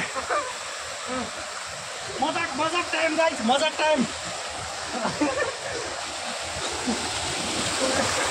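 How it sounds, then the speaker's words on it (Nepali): Small waterfall at Chande Dhada, Dharan, Nepal, rushing steadily in the background, a constant splashing flow, with people talking and laughing over it. "पानीको झरना सानो सानो भए पनि रमाइलो झरना छ यहाँ"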